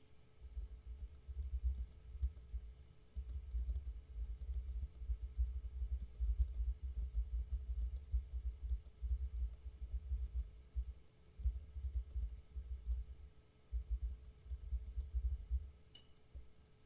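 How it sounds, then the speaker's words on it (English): Someone types on a computer keyboard, entering text into a blog editor, producing quick light key clicks in uneven bursts with brief pauses, soft and close, with no talking. "Then in the editor, let's type our entry."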